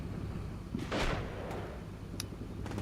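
An explosion in the tactical war game Combat Mission: Shock Force 2 gives a single muffled, distant boom over a steady low rumble of ambient battle noise, followed by a few faint sharp cracks.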